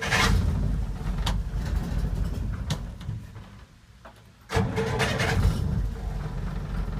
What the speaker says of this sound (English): a pump of the pedal and a turn of the key usually cranks it up